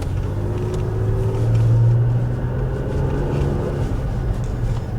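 A 3rd Gen Toyota Tacoma truck with a new torque tune drives along, a steady low engine drone and road rumble from inside the cab that swells briefly as it pulls, with no talking.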